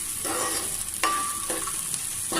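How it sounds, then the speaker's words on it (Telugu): Potato pieces and soya chunks (meal maker) fried in a pan for poha, with a steady close sizzle and a few scraping stirs of a utensil against the pan. "మీల్ మేకర్, ఒక 2 నిమిషాలు ఇలా చక్కగా వీటిని ఫ్రై చేసుకోవాలి"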